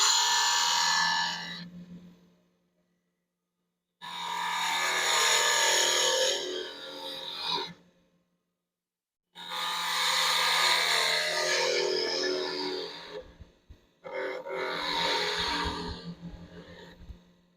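A 1/2-inch spindle gouge cuts a wooden bottle stopper spinning on a lathe, making four bursts of hissing, rasping cutting noise separated by silent gaps, with the tone shifting within each pass.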